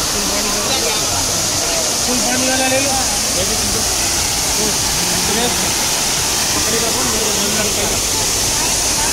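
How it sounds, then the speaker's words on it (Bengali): Loud, constant roar of Cheeyappara waterfall in Munnar, Kerala, filling the whole clip, broadband rushing water with people talking faintly underneath. "ঝর্ণার আওয়াজটা শুনেই মনটা শান্ত হয়ে যায়"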